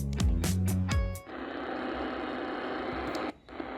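Dense, steady hiss of AM radio static from a portable AM/FM radio filling the sound, preceded by a few brief tuning squeals and tones, then a short dip before the noise resumes.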